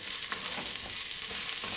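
Chopped garlic and rice fry aggressively in a pan, giving a loud, continuous sizzle with bursts of crackling as the ingredients are stirred, heard alone without talk.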